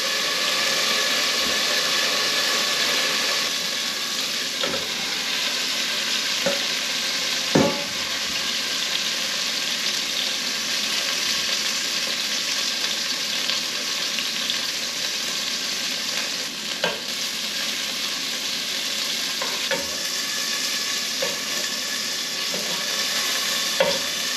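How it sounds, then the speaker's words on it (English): Beef chuck sears in hot oil in a pan for a beef stew, giving a steady, close, loud sizzle. Occasional sharp clicks and spatters cut through the continuous frying hiss, with no talking. "we're going to continue to sear the rest of this beef chuck until we don't have any left"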